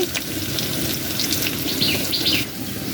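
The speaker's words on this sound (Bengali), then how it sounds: "প্রথমে তেল দিয়ে দিলাম, দিয়ে দিলাম কাঁচামরিচ, কিছুটা কাঁচামরিচ" Green chilies frying in hot oil give a steady, close crackling sizzle with faint watery hiss that runs evenly for the whole stretch, no voices present.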